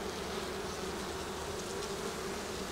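Honeybees buzzing densely around a hive full of nectar, a steady close swarm hum with no pauses, loud and even from start to finish.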